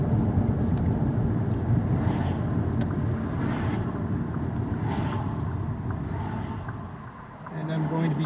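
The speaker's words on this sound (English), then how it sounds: "I'm going to roll down the windows really quick here, get some outdoor noise." Steady roar of passing road traffic and wind rushing through an open car window, continuous and fairly loud, easing briefly near the end.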